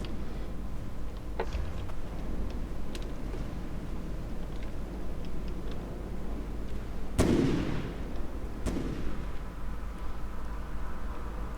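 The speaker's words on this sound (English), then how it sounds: "Plenty of flak and dacker firing up at the enemy craft" Flak guns on warships firing up at enemy aircraft in the naval combat game From The Depths, a constant rumbling barrage with a few sharp, louder blasts standing out, one big explosion near the end.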